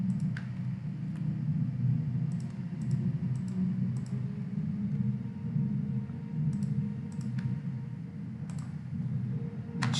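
Single keys clack on a computer keyboard, a few sparse short clicks in small clusters, over a steady low rumbling hum, with no speech.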